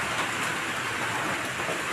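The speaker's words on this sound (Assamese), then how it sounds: "বৰষুণ দি আছে ঘৰতো কাম লাগি আছোঁ" Rain falling outdoors during a village flood, a dense, even hiss of steady downpour with no voices, heard close and continuous throughout.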